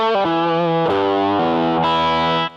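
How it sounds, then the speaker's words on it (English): An electric guitar runs through the Classic OD overdrive setting of a Korg G1 distortion processor, playing a few crunchy sustained chords and chord changes with a gritty, saturated tone, loud and close, cutting off at the end. "that's a nice overdrive sound"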